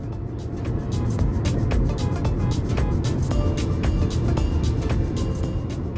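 A Suzuki Ciaz cruises on a long-distance road trip, its cabin filled with a constant loud rumble of engine and road noise, steady throughout with faint ticking and no talk.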